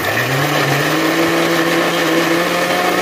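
A kitchen blender grinds onion, tomato, ginger, garlic and dry chili into a spice paste, a steady loud motor whir with a droning hum that holds unbroken throughout, no voices.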